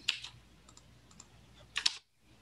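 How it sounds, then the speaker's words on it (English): Computer keyboard typing in two short bursts, a few crisp clicks at first, scattered light taps, then a louder quick flurry before it cuts to silence. "I should have practiced typing that 100 times."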